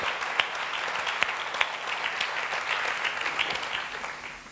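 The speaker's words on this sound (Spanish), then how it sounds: "un aplauso para toda la gente que está ahí detrás llevando a cabo la campaña electoral" Audience applause for a campaign team at a Valladolid electoral program presentation, a steady dense clapping that holds for several seconds with a few sharper claps standing out before it tapers off.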